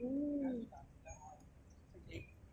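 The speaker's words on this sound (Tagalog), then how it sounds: "Ayun pala, yung kalapati." A pigeon gives a short, low coo nearby in a park at the start. Faint scattered sounds and soft background noise follow.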